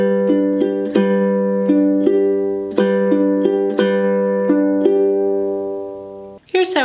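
Ukulele fingerpicking of a song's pattern at song tempo: bright plucked notes in an even, repeating rhythm over sustained chords, close and clean, fading before a short scrape at the end.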